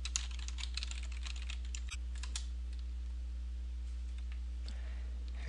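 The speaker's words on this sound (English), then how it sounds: "you've got to make sure you type the address right." Rapid keystrokes on a computer keyboard as a web address is entered, a quick burst of close clicks early on and then a few sparse taps, over a steady low electrical hum.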